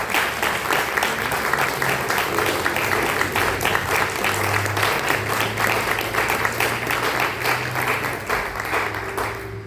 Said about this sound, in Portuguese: dá uma linda salva de palmas para o Senhor